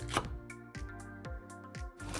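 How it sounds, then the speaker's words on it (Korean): Three Cheongyang chili peppers are sliced into thin rounds with a knife, giving soft, quiet board taps at a loose, irregular pace, heard close with no talking. "청양고추 3개를 송송 썰어줍니다."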